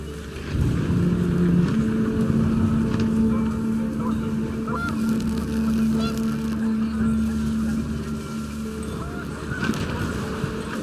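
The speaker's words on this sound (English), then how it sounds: "panicked geese appeared and quickly went" Panicked geese in the video game What Remains of Edith Finch honk in a cluster of nasal calls over a steady, rumbling wind-like background for several seconds.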